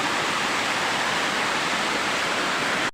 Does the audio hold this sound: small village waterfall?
yes